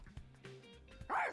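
A puppy in the video game The Hundred Line: Last Defense Academy gives a few short yips and whimpers, quiet and close, ending in a louder sharp bark.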